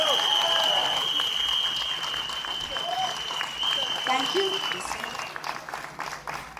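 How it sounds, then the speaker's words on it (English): Steady audience applause fills a film teaser launch press conference, loud and sustained before gradually thinning out, with a brief spoken voice over it. "Please give him a round of applause."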